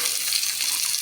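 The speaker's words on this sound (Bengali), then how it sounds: "এর মধ্যে পেঁয়াজ দিয়ে দিলাম।" Onions frying in hot oil with whole garam masala for chicken tehari produce a loud, close, continuous crackling sizzle.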